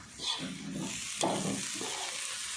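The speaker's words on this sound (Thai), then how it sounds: "คั่วกลิ้งไปแบบนี้ จนกว่าจะแห้งดีนะจ๊ะ" Beef being dry stir-fried in a pan for Thai khua kling: a soft, fairly quiet sizzle with brief scraping stir sounds and no voices.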